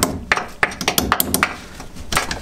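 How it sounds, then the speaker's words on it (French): A metal socket is worked loose inside a Ford Mustang engine bay, giving a series of sharp, ringing metallic taps and clinks at uneven intervals, close and fairly loud, with some rustling in between. "Allez, tentative de récupération de la douille. Elle bouge, c'est qu'elle va venir."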